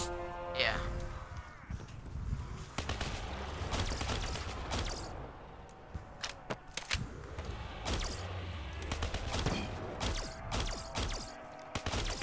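Pistol gunfire in Call of Duty zombies on the Gorod Krovi map: repeated sharp shots fired at irregular intervals, mixed with game effects and people talking throughout.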